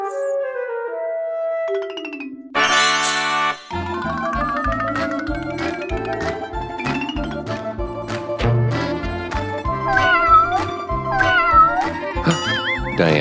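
Cartoon cat meowing in a children's show, a series of clear tonal meows, some long and bending, mixed with chimes and bright music, loud and close with no speech.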